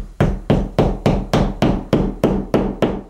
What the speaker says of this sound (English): now I'm just tapping in the wall anchors